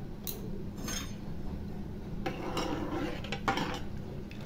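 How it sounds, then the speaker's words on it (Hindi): Turmeric and salt being stirred into cooking khichdi of rice and two kinds of dal, with a utensil scraping and clinking against the pot in several short bursts over a steady low background. "थोड़ा सा हम लोग हल्दी और थोड़ा सा नमक ऐड करके हम लोग मिक्स कर देंगे।"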